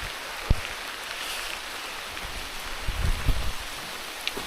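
Steady rain patters on surfaces with scattered louder drops and taps, a continuous hiss filling the background, on a muddy mountain trail during a trail race.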